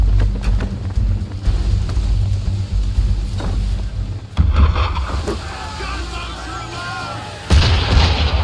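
Cannon fire aimed at a ship in Assassin's Creed III, heavy booming blasts landing at intervals among wind and water noise, with people talking in between.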